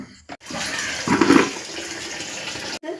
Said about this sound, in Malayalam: വെള്ളം ഒഴിച്ചിട്ടുണ്ട്